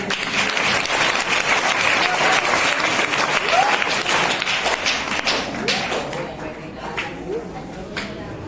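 A crowd claps in sustained applause at a school function in Haryana; it slowly thins out, with voices audible beneath it.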